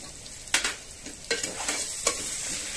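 Red chilli powder, biryani masala, hing and turmeric frying for palak pulao, a low sizzle broken by several sharp scraping stirs of the spoon in the pan, close and without talk.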